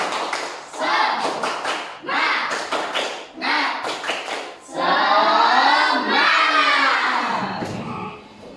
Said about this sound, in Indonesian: Pak Indra akan ajak kalian untuk tepuk semangat dulu ya